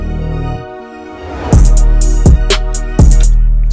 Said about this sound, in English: I put a little effects transition here